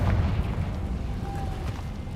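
Confringo spell blast in Hogwarts Legacy, a heavy, low rumbling boom that starts loud and slowly decays over about two seconds, with no voice over it.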